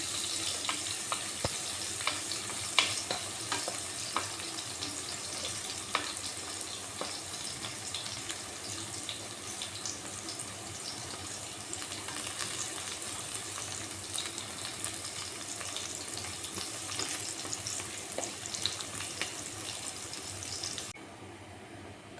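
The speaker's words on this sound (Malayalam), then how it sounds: "ഞാൻ തേങ്ങാക്കൊത്ത് കൂടി ഇട്ടിട്ടുണ്ട്. ഇതും കൂടെ ഒന്ന് മൂത്ത് നമുക്ക് കോരിയെടുത്തിടാം." Coconut pieces sizzle in hot oil for ada pradhaman payasam, a steady bright crackle with a few stirring taps and no voices, cutting off at the end.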